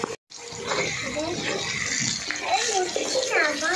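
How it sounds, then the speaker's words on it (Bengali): Water poured into a fish curry with new potatoes simmering in a pot, a steady splashing pour that runs continuously after a brief gap. "জলটা দিয়ে দাও।"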